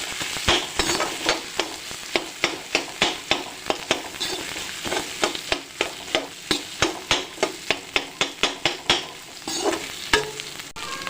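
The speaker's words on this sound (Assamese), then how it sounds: "তাৰপিছত আলু মই ইয়াত দি দিছোঁ আলু অলপমান ভাজিও দিম" Potatoes frying in a pan with turmeric, sizzling steadily while a spatula scrapes and stirs in quick, regular strokes.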